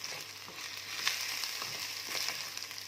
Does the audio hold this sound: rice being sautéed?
yes